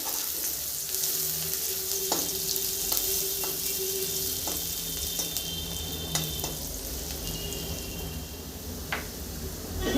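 Chopped onions fry in oil with a steady, dense sizzle for a Bengali fish curry, with a few faint clinks of a spoon against the pan scattered through.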